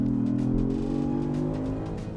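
A 2025 Genesis GV80 Coupe engine pulls hard under full throttle, a loud, steady, rising drone that climbs in pitch for about two seconds, close up and with no voices.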